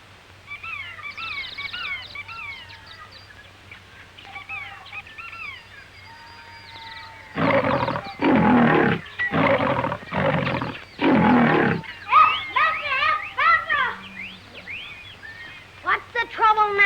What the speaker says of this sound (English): Look, a tiger.